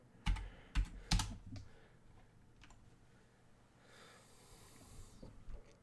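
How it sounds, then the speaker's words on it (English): Keys on a computer keyboard are typed in a few sharp, close clicks early on, then quieter scattered taps follow against soft breathing and a faint hiss. "I'll just type in my answer."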